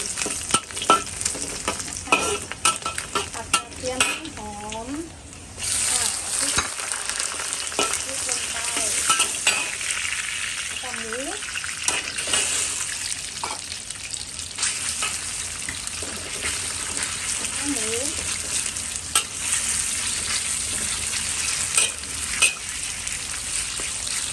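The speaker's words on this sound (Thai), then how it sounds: "อ่ะมาเจียวน้ำมันหมูนะคะ เจียวน้ำมันหมู แล้วก็เอากระเทียมลงไปเลย" Garlic fries in rendered pork fat in a wok over high heat and is stirred throughout. A dense crackling sizzle carries scraping strokes and a few brief squeaky, rising tones.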